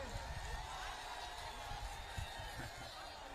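Applause from a crowd at an outdoor political event where Akhilesh Yadav is welcomed, a steady, fairly distant wash of clapping with scattered cheers, heard faintly throughout.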